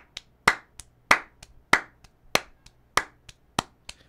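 A hand clap sample is triggered in Logic's sampler in a steady repeating pattern, roughly a dozen crisp claps, with louder hits alternating with softer ghost claps.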